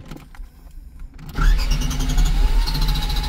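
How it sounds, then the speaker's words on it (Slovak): Car engine cranked by its starter motor and catching, a sudden loud rise in engine noise after a quiet stretch, then a steady idle with a faint whine on top; no talking. "dvakrát nám to nechcelo naštartovať, skús"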